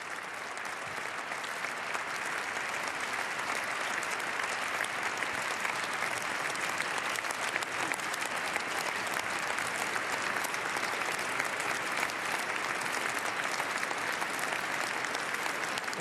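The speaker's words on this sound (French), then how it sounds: "Ça applaudit beaucoup" A large audience applauds a Trump speech, dense sustained clapping that stays loud and steady throughout with no pauses.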